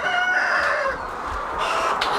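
Chickens in a large poultry house at feeding time, a dense continuous flock of clucking and calls with a rooster crowing faintly among them, close and steady with no talk.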